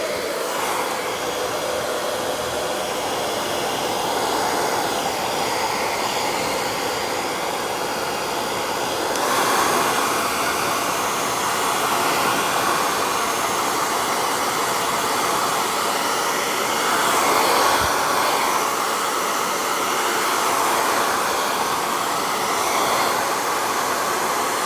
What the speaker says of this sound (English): let me get that hair dryer